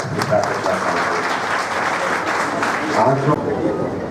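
An audience at an Agrasen Jayanti celebration in Agrasen Bhawan applauds steadily, a dense patter of clapping that swells near the end, with voices talking underneath.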